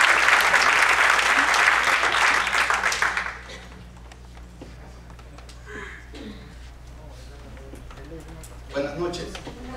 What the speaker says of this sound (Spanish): Démosle un aplauso entonces de bienvenida al apóstol Misael.